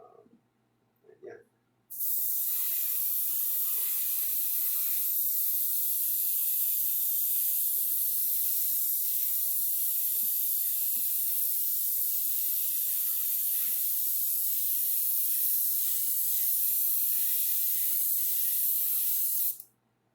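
An airbrush with a 0.2 needle lays down a full wet coat of paint, giving a steady, close hiss that runs unbroken for about eighteen seconds after a short burst of handling noise.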